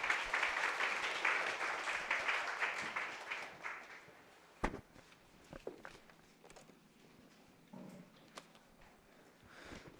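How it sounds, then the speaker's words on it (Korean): Audience applause at a police academy admissions information session, dense clapping that fades over the first few seconds, then scattered single claps, footsteps and faint voices. "박수 부탁드릴게요."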